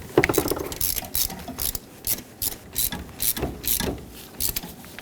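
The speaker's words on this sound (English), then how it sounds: "put the mounting nut on. Also 13mm in size, snug it up" A hand ratchet snugging a 13mm mounting nut on a 1997-2006 Jeep Wrangler 2.4L, giving rapid clicking bursts in short repeated strokes, close and clear with no talk.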